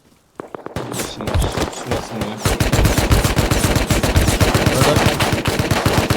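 Rapid revolver gunfire rattles through a Rust match, loud and close, with a few sparse shots and footsteps at first, then dense continuous volleys of overlapping shots until the end.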